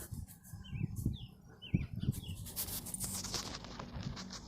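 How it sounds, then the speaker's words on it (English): Asian doves coo outdoors in a few soft, low, repeated calls, mixed with higher chirping birds, before a burst of rustling noise takes over. "There's those Asian doves."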